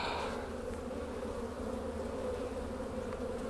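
Steady, dense buzzing drone of honey bees clustered inside a hive after a hard freeze, close and continuous with no voices.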